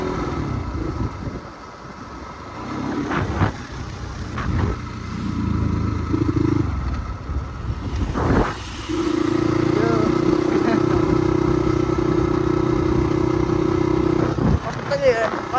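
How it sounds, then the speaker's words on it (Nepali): A motorcycle approaching from behind drones steadily and grows louder, with a sustained mid-pitched hum over road noise while someone talks intermittently. "पछाडिबाट बाइक आइरहेको"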